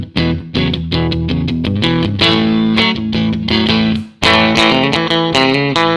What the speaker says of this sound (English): I got a little TC Electronics Cinders overdrive just to give it a little bit of crunch without cranking the amp up.